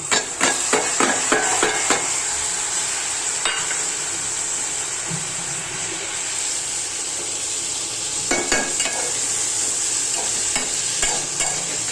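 Mung beans and potato in a frying pan give a steady bright sizzle throughout, with sharp stirring and scraping knocks at the start and again near the end.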